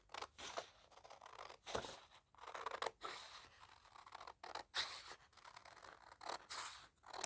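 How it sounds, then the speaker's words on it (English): Scissors cut around a paper ephemera pocket for a papercraft trifold, giving a run of close, crisp snips and scraping slices in an irregular rhythm. "I think it would be faster if I just whip around this with scissors"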